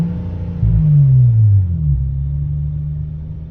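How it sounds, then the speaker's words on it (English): A Hyundai Tiburon's naturally aspirated engine, running a tuned ECU, gets a short throttle blip: a loud low rumble climbs and then eases back to a steady idle hum, with no one speaking over it. "I'm just going to give it some throttle"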